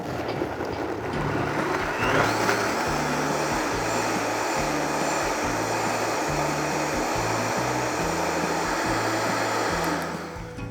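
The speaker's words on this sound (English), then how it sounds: "I'm gonna blend this up to a nice beet smoothie." A blender runs close and loud, turning sliced beets into a smoothie with a steady motor roar and a churning pulse as the contents tumble, then winding down at the end.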